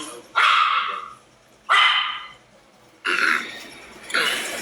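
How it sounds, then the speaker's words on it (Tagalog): A dog barks four times in slow succession, each bark loud and close, with quiet pauses between. "Sino yung aso?"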